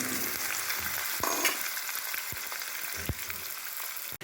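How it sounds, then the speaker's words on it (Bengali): Eggplant frying in hot oil in a kadai gives a steady, close sizzle with occasional soft stirring knocks, and no one speaks over it. "তো আগে আমি এই বেগুনটা ভেজে তুলে নেব"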